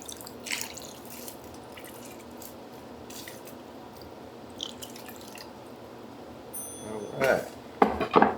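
Skillet drippings and water are poured into a casserole, heard as soft scattered drips and squishy splashes that grow into louder wet pouring bursts toward the end.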